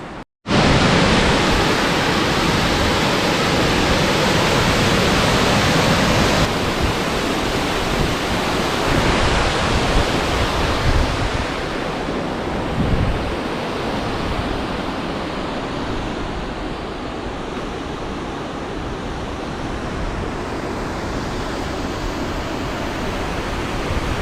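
Badaghagara waterfall in Keonjhar, Odisha, with water rushing and pouring in a steady, dense, loud roar that never lets up, heard up close with no voices.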